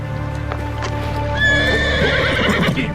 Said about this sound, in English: Horses hate me.